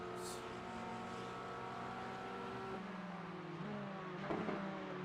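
A Porsche race car's engine drones steadily in a racing game at Zolder or Hungaroring, a sustained humming whine whose pitch shifts slightly near the end, mid-distance and moderately loud.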